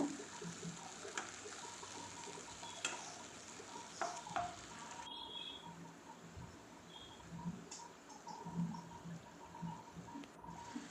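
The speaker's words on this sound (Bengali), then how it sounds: "প্রথমে পেঁয়াজ বাটাটা দিয়ে দেবো দিয়ে একটু জল সামান্য একটু জল দিয়ে একটু কষাবো" Onion paste with ginger, cumin and dry chilli masala fries quietly in a pan with a little water, giving a low, continuous sizzle with occasional soft stirring scrapes and faint clicks at a distance.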